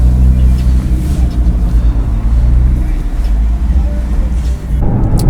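A Nissan GT-R fresh from a transmission software update drives along on 99 RON fuel, its engine giving a steady, loud drone and road rumble from inside the car, with a shift in tone near the end.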